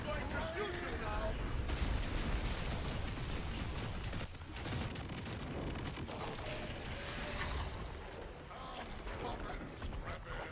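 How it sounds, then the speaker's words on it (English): Gunfire in a video game: a loud, continuous barrage of shots and explosive bursts fills the whole stretch, with a brief dip partway through, and likely some talk underneath. "I am going to shoot you now."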